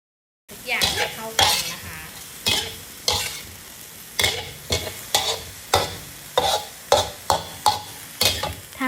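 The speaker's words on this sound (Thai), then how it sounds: "มีพริกมีแครอท นะคะ มีพริกหยวก พริกแดงนะคะ ใส่รวมกันไปเลยนะคะ แล้วก็ ผัด รวมกันค่ะ" Wood ear mushrooms, carrot, bell pepper and red chili stir-fried together in a pan, a close sizzle punctuated by a brisk series of loud rhythmic scrapes and clanks from the spatula.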